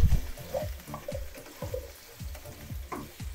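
Pork afritada with carrots and potatoes being stirred in a pan: a steady sizzle of frying with repeated scraping, clacking strokes of a utensil against the pan, close and fairly loud, with no talking.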